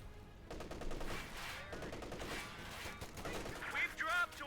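Gunfire pours onto an infantry unit in Company of Heroes 2, with repeated bursts of rifle and machine-gun shots over a busy battlefield bed, steady and moderately loud throughout. Faint voices come through underneath.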